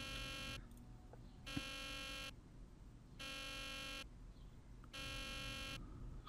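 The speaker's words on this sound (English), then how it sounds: "buzzer is very annoying." Buzzer in the Nancy Drew: The Deadly Device video game, a harsh electronic drone sounding in four long bursts separated by short pauses, loud over faint room tone.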